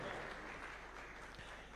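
An audience at a ceremony claps for honorees walking up, a continuous spread of applause heard from a distance and fairly faint, with a voice mixed in.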